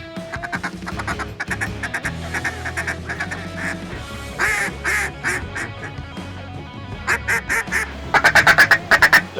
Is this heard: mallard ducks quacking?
yes